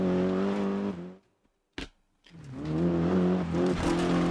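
Peugeot rally car engine in the racing game Dirt Rally, droning with steady harmonic tones, cutting out briefly for about a second, then revving back up loud and rough.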